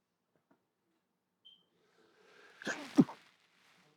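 A single sharp sneeze bursts out in an otherwise quiet room, preceded by a brief intake of breath.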